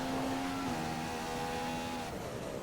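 Race car engine in a racing video game, dropped to first gear for a corner, holding a steady high-pitched drone with clear harmonic whine throughout, loud and alone.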